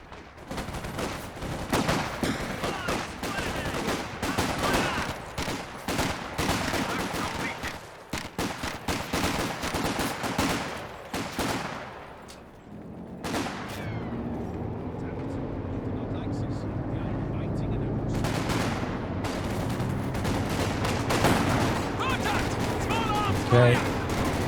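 Battle in the Company of Heroes 2 strategy game, with rapid bursts of gunfire, grenades popping and explosions rattling densely for the first half, then a rumbling engine-like drone taking over, with a voice talking over the action.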